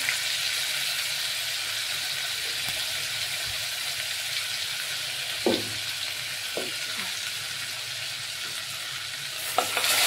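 Butter melts into several ladles of oil in a pan, the start of a hotel-style pav bhaji. It gives a steady close sizzle, broken by a few faint clicks and taps of a spoon against the pan, with no talking.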